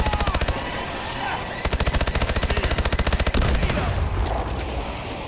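Rapid automatic gunfire from the Call of Duty Advanced Warfare Exo-Zombies game mode, loud bursts of evenly spaced shots running for several seconds before trailing into continued game noise.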